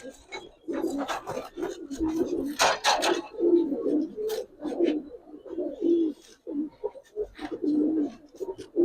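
Giribaz pigeons coo in a loft, repeated low throaty phrases rising and falling close by, with soft wing flutters and scattered clicks between calls.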